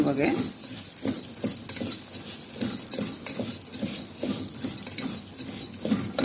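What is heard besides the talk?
broken brown rice being stirred and roasted in ghee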